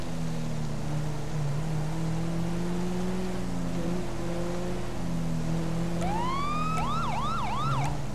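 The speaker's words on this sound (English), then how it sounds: "there's no need for sirens on right now" A steady video-game engine drone runs for several seconds before a police siren kicks in near the end with a few quick yelping cycles.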